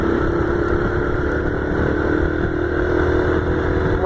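A big motorcycle engine, one of the large bikes gathered at a meeting spot in Parque dos Poderes, Campo Grande, runs with a steady low rumble close by, holding an even throttle rather than sharp revs.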